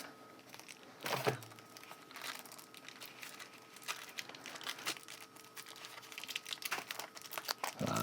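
Paper pages of a Logitech ScanMan 256 manual being handled, with soft crinkling, rustling and a sharper crumple near the start, fairly quiet and close.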